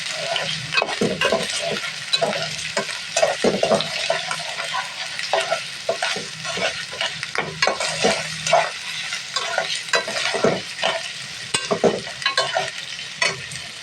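Meat fries in a pan while being stirred constantly, loud close sizzling broken by repeated scraping and clattering strokes of the spatula, with no voices.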